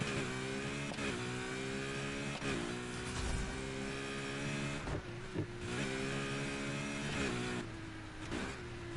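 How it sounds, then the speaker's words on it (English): A hybrid V12 Ferrari LaFerrari in the racing game Need for Speed Heat drones and revs loudly and steadily throughout, with brief dips where the throttle lifts and comes back on, no talk over it. "This car sounds more like hybrid than I remember."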